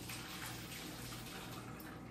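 Water from cooked pancit noodles pours and drains through a strainer into a sink, a steady close rushing splash without pause.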